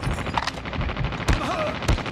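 Gunfire in the Call of Duty video game: rapid automatic bursts and a few sharp single shots crack through constant battle noise, loud and close, with faint voice chatter underneath.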